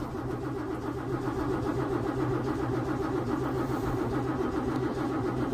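A 1964 Holden EH ute engine cranking without firing, a steady, loud, rhythmic churning of the starter that goes on throughout without catching, with no voices.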